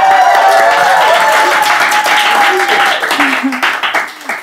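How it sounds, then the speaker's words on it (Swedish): A studio audience applauds during an interview with a comedian, with bright clapping at first that thins out and fades as a voice begins talking over it. "En applåd."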